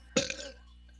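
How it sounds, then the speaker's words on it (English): A single short belch, close and fairly loud, rising abruptly and trailing off within half a second, heard alone against a quiet background. "Just a belch."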